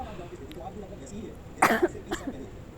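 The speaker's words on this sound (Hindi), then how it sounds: "बीच बीच में मुझे खांसी आ रही है" A person coughs twice in quick succession, short harsh bursts close by, against a quiet room background.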